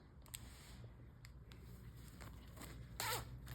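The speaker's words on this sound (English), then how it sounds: "We got zippered pockets." A zipper on a pants pocket being worked, with several quick faint zipping rasps and clicks ending in one longer, louder pull, close by in a quiet room.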